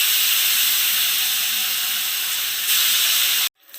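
Small cleaned, headless fish frying in hot oil for a brinjal curry: a steady, loud, dense sizzle and hiss that holds for about three and a half seconds, then cuts off abruptly into near silence.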